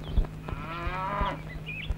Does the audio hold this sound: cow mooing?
yes